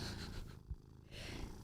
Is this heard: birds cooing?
no